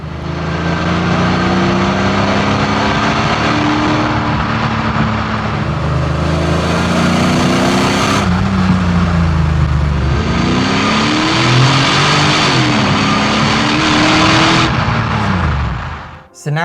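A Mercedes R129 500SL engine drones loud and close on twisty roads, its pitch rising and falling as the car accelerates, shifts and eases off through the bends before fading at the end.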